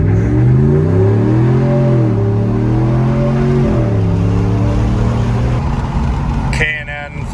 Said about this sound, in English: K&N filter from a dig, windows down.